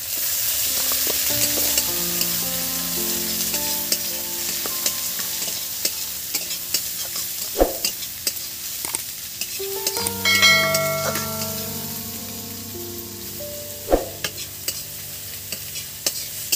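Finely chopped onion fries in a pan with mutton fat for a soybean dish, a loud continuous sizzle broken by close scraping stirs and a few sharp utensil knocks against the pan, with no voices.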